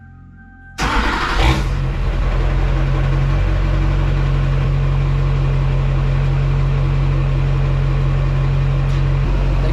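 A 2004 Chevy Silverado 2500HD with an LB7 diesel engine and temporary exhaust cranks and fires, then idles with a loud, steady, deep rumble that fills the rest of the clip.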